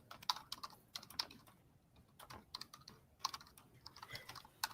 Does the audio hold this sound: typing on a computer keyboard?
yes